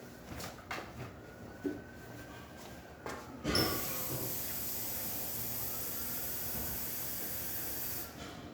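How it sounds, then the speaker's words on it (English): A loud, steady hiss of a Jura S8 espresso machine steam wand starts after a few seconds of quiet clicks and runs continuously to the end. "And now let's test the steamer."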